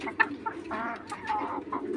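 Desi chickens kept as backyard poultry cluck softly nearby in short, scattered calls, fairly quiet, with no talking.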